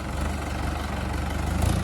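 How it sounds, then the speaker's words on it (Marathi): A tractor engine idling, a steady low rumbling drone that stays even and close for the whole short stretch. "खूप छान असा ट्रॅक्टर चालू राहिला आहे"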